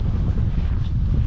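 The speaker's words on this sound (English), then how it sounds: "Probably going to be a windy one today" A brief burst of heavy wind roaring across the microphone on the Ceredigion Coast Path in Wales, dense low rumble with no other sounds.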